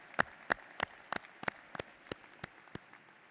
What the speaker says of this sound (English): I hope all of our classmates will now join us in a round of applause to thank all of the friends and family